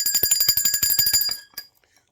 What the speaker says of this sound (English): I'm going to ring the bell for that.